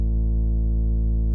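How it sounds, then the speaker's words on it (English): A deep synth sub bass layered with a mid bass sustains a single thick, steady note with rich low harmonics, loud and continuous for about a second and a half, alone. "And then I layered it with another mid bass."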